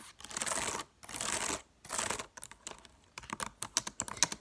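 Rapid typing and tapping on a computer keyboard with backlit keys, dense clattering bursts separated by brief pauses, then sharper, scattered individual taps toward the end; close and crisp, with no voices.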